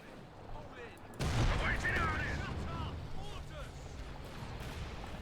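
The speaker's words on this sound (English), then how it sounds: "the Comet unleashes shot after shot now at them" Gunfire and tank shots, including repeated fire from a Comet tank, sound in a Company of Heroes 2 battle. A heavy blast lands after a second and is followed by rumbling combat noise, under a commentator's continuous talk.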